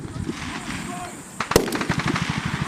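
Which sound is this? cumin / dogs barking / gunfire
gunfire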